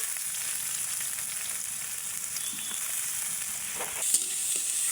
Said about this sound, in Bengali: আমি হচ্ছে আগে এগুলো ভালো করে ভেজে নেব